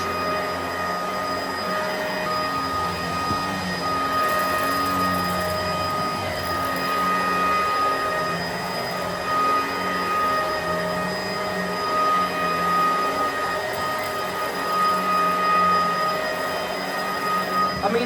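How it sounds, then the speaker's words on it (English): A Bissell upright vacuum cleaner runs continuously on carpet, a loud, steady whining drone with strong tonal hum that holds level for the whole stretch with no talk over it. "That's quite noisy for a Bissell."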